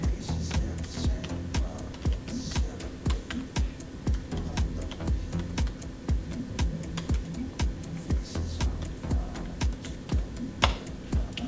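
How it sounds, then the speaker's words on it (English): Fast, steady typing on a computer keyboard, close-up key clicks tapping in an even rhythm throughout with no talking over it. "you type in your Apple ID"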